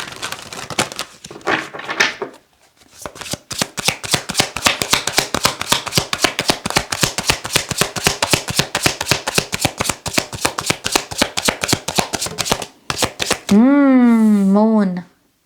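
Tarot cards shuffled by hand in a fast, steady riffle of crisp snapping flicks that runs for many seconds close to the listener, followed by a short wavering tonal sound at the end.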